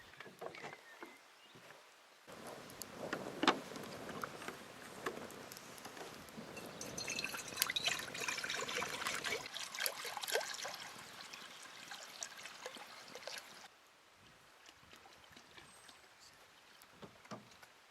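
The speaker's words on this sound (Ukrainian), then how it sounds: "поставимо казан на вогонь та налємо в нього води" Water splashes and trickles steadily into a cooking pot on the stove for several seconds, with drips and sloshing close by, then quiets to a faint trickle.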